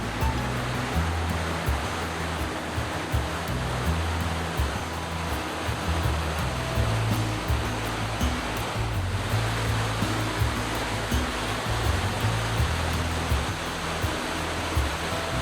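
Cedar Creek rushes over two small waterfalls and babbles along a trail after heavy rain, making a steady, full broadband roar of flowing water throughout with no voices.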